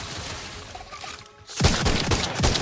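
Gunfire erupts in The Outer Worlds 2 as spiders are shot: a quieter stretch of game ambience gives way to a loud, rapid burst of shots that continues to the end.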